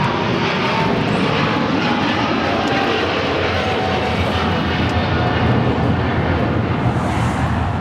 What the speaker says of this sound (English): The 777 is now one of the louder airplanes at LAX a lot of the times.